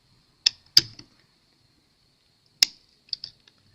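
A screwdriver works a laptop hinge screw loose, giving a few sparse, sharp clicks and creaky ticks close up, separated by quiet gaps.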